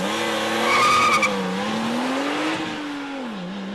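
A Porsche 911 Turbo sports car on a country road, its engine droning steadily with rising and falling pitch as tires squeal briefly, loud and close with no talk.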